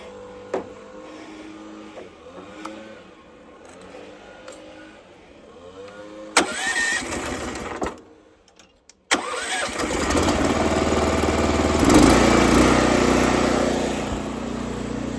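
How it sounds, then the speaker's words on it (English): A pressure washer engine for roof and house washing cranks with a brief whir, cuts out for a moment, then catches and settles into a loud, steady close-up roar that holds to the end. "Let me go ahead and turn on the pressure washer"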